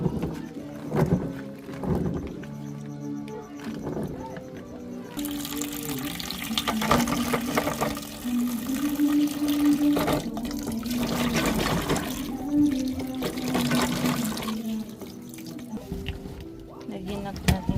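Native peanuts are washed under running water, with splashing, trickling and rattling of the nuts in a container, punctuated by scattered handling clatter and a voice speaking intermittently over the water.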